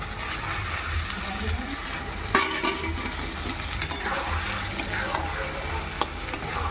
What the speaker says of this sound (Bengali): মশলা কষা হয়ে এসেছে এবার দিয়ে দেবো খাসির ছাট মাংসটা